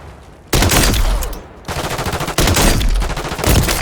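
Jak Volkh burst-fire weapon in Modern Warfare III gameplay, loud close gunfire in dense bursts of rapid shots separated by short pauses, with the second burst arriving slightly late.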